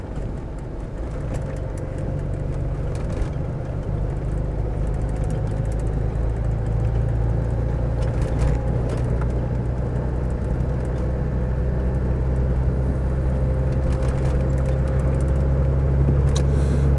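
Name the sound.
Land Rover Discovery 300TDi diesel engine driving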